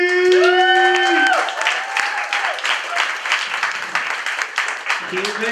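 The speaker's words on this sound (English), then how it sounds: "Put your hands together for Bobby" Loud audience applause and cheering for a comedian at a stand-up show in Seattle, dense clapping sustained throughout, with a brief electronic musical jingle of rising tones at the start.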